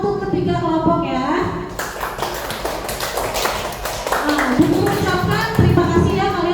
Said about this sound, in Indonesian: Tepuk tangan untuk ketiga kelompok ya